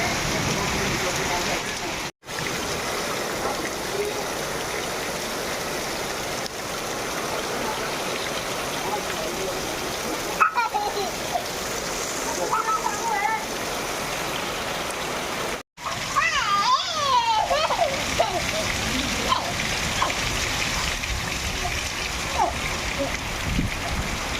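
A heavy, sudden unseasonal downpour in the Konkan countryside drums steadily and loudly throughout, a dense broadband hiss with brief dropouts, while voices talk over it at times.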